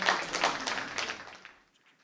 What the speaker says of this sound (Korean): 손여몽 교수님 큰 박수로 맞아주십시오